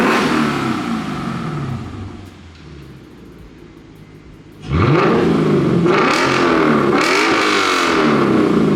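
A throaty modified car engine with a muffler delete and closed exhaust valve idles, then revs hard several times in loud rising-and-falling bursts, deep and rumbling, close by.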